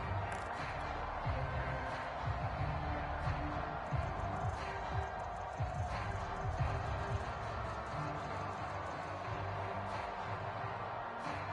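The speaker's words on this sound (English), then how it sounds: "Crowd getting in it a bit already." Steady stadium crowd roar from a PS4 American football video game, a continuous dense murmur that swells slightly at times, with no distinct cheers standing out.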